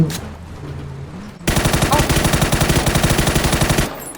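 A helicopter's machine gun fires in PUBG, a rapid, evenly spaced stream of loud shots that cuts in after low background noise and rattles steadily for over two seconds before stopping abruptly.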